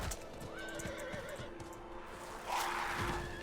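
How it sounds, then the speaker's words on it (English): A horse neighs and whinnies in the video game Diablo IV, with clip-clop hoofbeats beneath, a fairly close, moderate call that rises into a louder whinny toward the end over steady game ambience. "Giddy up, horsey."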